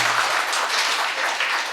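An audience at a Tamil poetry book launch gives a short burst of dense, steady applause, many hands clapping together at close range.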